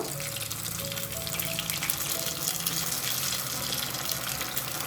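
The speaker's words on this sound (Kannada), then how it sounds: "ಒಂದು ಬಾಣಲಿ ತಗೊಂಡು ಎಣ್ಣೆನ ಕಾಯಕ್ಕೆ ಇಟ್ಕೊಂಡಿದ್ದೀವಿ" Oil heating in a pan, giving a continuous even sizzle and hiss at moderate distance, steady throughout with no talking.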